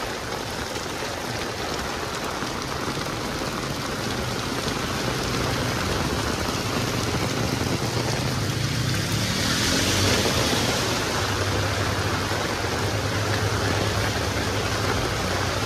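Heavy rain pours down steadily in Huajuapan de León, a dense, continuous hiss of drops striking surfaces that stays loud and unbroken throughout.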